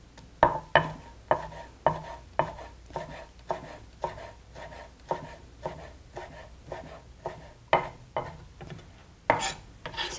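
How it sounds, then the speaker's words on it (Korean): A knife chops blanched spinach on a cutting board with about twenty regular, crisp thuds at a steady, unhurried rhythm, close and moderately loud, with no talking. "물기를 제거하고 같은 크기로 썰어줍니다"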